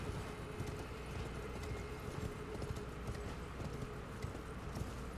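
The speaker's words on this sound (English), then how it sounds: "we can go back to being on horseback" Steady clip-clop of horse hooves while riding on horseback in Elden Ring, quick and rhythmic under a constant ambient wash, with no voices.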